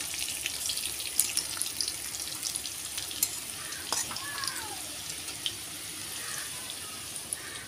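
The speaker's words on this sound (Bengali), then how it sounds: "তো আলুটা আমি ভেজে নিচ্ছি" Parboiled potato pieces fry in hot oil in a pan, giving a steady, close hiss and crackle with occasional sharper pops throughout.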